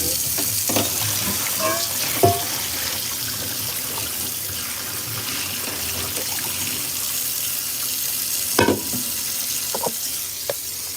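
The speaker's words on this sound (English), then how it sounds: "I'm gonna pour this water into the sink" Water pours and runs into a kitchen sink from a tap, a steady broad rush with a few clinks and knocks of dishes, close and fairly loud.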